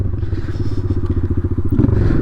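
A dirt bike engine rumbles up close in a fast, pulsing low throb during a wheelie, steady and loud without voices.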